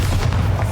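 The Bombarda spell explodes in the game Hogwarts Legacy, a loud, close, booming blast with a deep rumble that fills the whole short moment.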